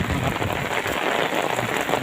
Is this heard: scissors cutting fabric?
no